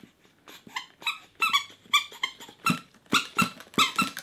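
A squeaky treat-ball dog toy being squeezed over and over, producing a steady run of sharp, high-pitched squeaks roughly every half second, close and clear with nothing else heard.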